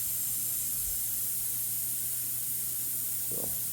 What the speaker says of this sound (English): Other heads spraying over there, and others